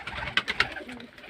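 Caged birds coo in a short, soft, close run of low throaty notes. A brief murmur of a voice sits faintly underneath.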